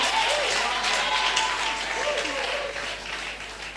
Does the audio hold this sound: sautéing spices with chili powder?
no